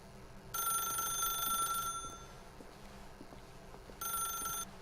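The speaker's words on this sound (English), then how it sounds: "If you can truly place your faith in another, then pick up the phone." A telephone rings twice in The Stanley Parable video game, two bright electronic ring bursts with a pause between them, clear and fairly loud, with no speech.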